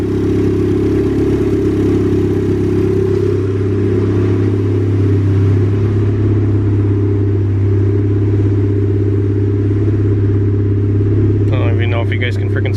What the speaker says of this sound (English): Car's running pretty good.